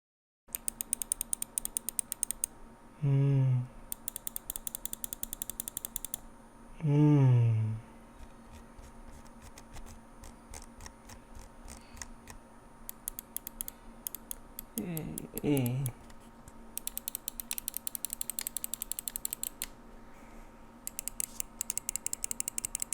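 Rapid bursts of crisp mouse button clicks repeat close to the mic, broken by brief pauses and a few low squeaky vocal sounds, with no words spoken.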